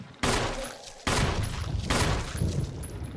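Gunfire in the Resident Evil video game: three loud, close shots, each with a long ringing tail that runs into the next, spaced roughly a second apart.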